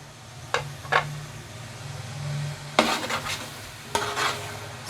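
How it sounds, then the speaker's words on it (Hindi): Crushed coriander and spices being stirred in a pot for chicken pulao, several scraping strokes of a spoon against the pot in irregular bursts over a low steady sizzle, with no voices. "इसको हम अच्छे से हिला देते हैं ताकि साथ साथ जो मसाले हैं वो भी इसमें मिक्स होते रहें।"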